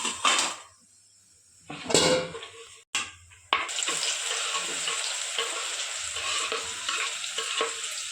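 Sliced banana wafers fry in hot oil, a steady close sizzle with stirring and a few clanks of the utensil, starting after short sharp scraping bursts and running on without talk.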